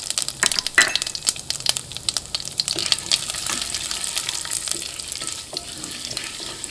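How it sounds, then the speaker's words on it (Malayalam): Mustard seeds frying in hot oil along with urad dal and chana dal, giving a steady sizzle with scattered sharp pops and crackles close by, with no talking. "അപ്പോൾ കടുക് പൊട്ടി തുടങ്ങിയിട്ടുണ്ട്."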